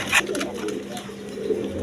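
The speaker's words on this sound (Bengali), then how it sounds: "এক পেয়ার গড়রা কবুতর রেড কালার গড়রা" Red Gorra pigeons coo softly in a short, close burst of low throaty calls over faint background noise.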